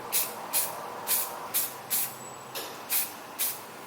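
An aerosol can of red spray paint sprays in eight short, evenly spaced hissing bursts, each a sharp pressurized spurt with a nozzle rattle in between.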